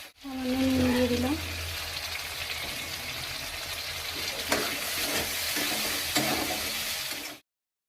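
Spices, chopped tomato and salt sauté in a pan for a katla fish kalia, giving a steady sizzling hiss with occasional stirring scrapes. A short tonal hum sounds near the start.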